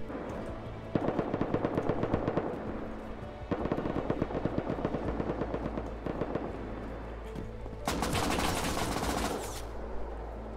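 Rapid AK rifle fire rattles through a raid in the game Rust. It comes as four sustained automatic bursts separated by brief pauses, and the last burst is the harshest, with no speech over it.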